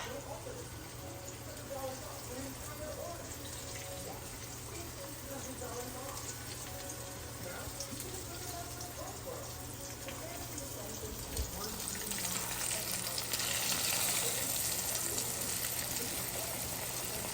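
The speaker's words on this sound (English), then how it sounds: "Nice little sizzle going." A steady, faint crackling sizzle of flour-coated steak frying in a pan continues throughout, growing a little louder and brighter near the end.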